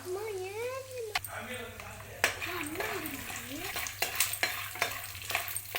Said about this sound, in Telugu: బాగా ఫ్రై చేసుకుందాము